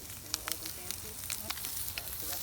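Chunks of salt pork fry in a pan for pioneer-style cooking, giving a steady, fairly quiet sizzle with scattered small pops and crackles throughout, without speech.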